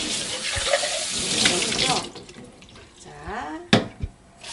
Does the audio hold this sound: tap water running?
yes